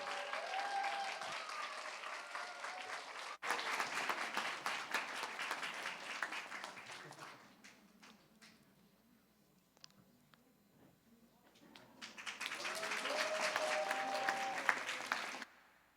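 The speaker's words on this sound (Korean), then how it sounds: "여러분 큰 박수로" A church youth service congregation applauds to welcome a young speaker: a full burst of clapping from many hands, dying down to quiet, then swelling again into a second strong round.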